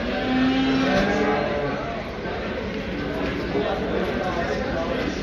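Cattle and calves at the Düzce livestock market, with a dense crowd of buyers and sellers chattering throughout and possible lowing buried in the steady market noise.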